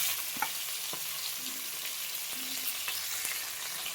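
Garlic, cumin seeds and chili frying in hot oil for tomato dal, a dense continuous sizzle with faint stirring scrapes, close and steady throughout.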